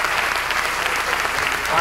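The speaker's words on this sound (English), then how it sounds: "please give Stephan a round of applause, and thank him for joining us today." An audience gives sustained applause at an evening talk, a steady wash of clapping that fills the whole moment, with a faint voice beneath it.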